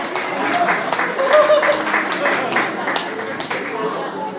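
A small audience at a magic show claps briefly, scattered applause over a few seconds with voices mixed in.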